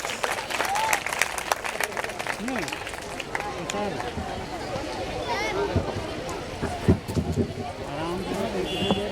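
Applause from an audience at a school annual function, greeting young seventh-grade girls who are about to host the stage programme; loud, continuous clapping from a crowd fills the whole stretch, with voices mixed in.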